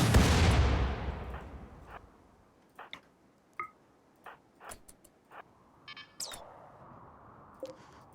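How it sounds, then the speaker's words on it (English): An auto mortar fires in the colony game RimWorld, opening with a loud booming launch that decays over a couple of seconds, followed by scattered sharp clicks, beeps and thuds at irregular intervals, with no speech. "Oh, the auto mortar."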